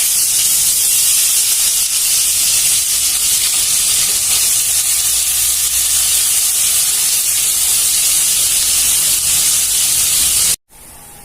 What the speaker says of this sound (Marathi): बघा कांदा आपला चांगला शिजत आलेला आहे